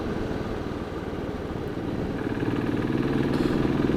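A 2017 Royal Enfield 500 Classic single-cylinder motorcycle, Battle Green ABS edition, runs with a steady low thumping engine note that builds slightly louder toward the end, heard alone without talk.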